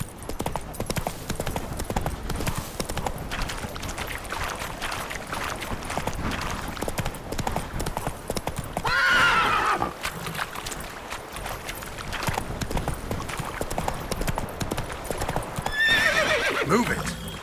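A horse in the video game The Witcher 3 gallops with a loud, rapid, continuous clip-clop of hooves, and two shrill neighs rise above the pounding rhythm.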